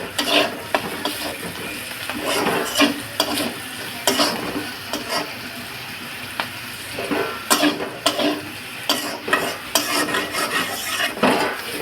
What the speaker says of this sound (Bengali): এখন সসটা দিব।